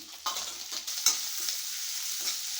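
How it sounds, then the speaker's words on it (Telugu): Onion pieces with turmeric fry in a pan, a bright close sizzle with a few stirring scrapes and knocks over a steady hiss, no talking. "ఇలా వేగాలండి ఉల్లిపాయ ముక్కలు."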